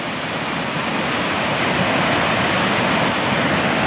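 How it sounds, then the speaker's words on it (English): Water roars steadily over a river spillway on the Blackstone River at Riverbend, a dense, unbroken rushing wash heard close and loud, with no voices. "Now we're at Riverbend, down by the spillway."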